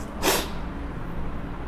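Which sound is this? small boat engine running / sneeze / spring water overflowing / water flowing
sneeze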